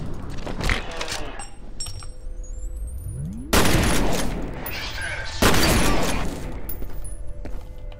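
Gunfire in the first-person shooter F.E.A.R. as the player shoots an enemy: bursts of loud, close automatic shots with ringing casings and clinks between them, over a low ambient hum.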